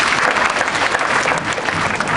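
Loud, dense applause from a lecture audience, a steady wash of many hands clapping close by throughout, with no talk over it.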